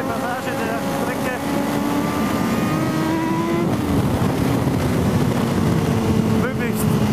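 A superbike engine revving hard at Circuit Zolder as the rider shifts up through fourth and fifth gear on the fast section, the rising whine loud and continuous with a step in pitch at each change, while someone talks over it.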